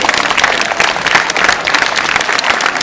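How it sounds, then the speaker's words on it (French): A theater audience at a dance show gives loud, steady applause, with dense continuous clapping from many hands and no talk over it. "S'il vous plaît, applaudissez-les chaleureusement."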